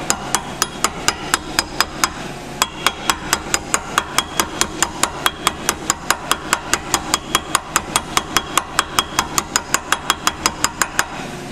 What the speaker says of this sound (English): Now you don't want to get carried away with the hammer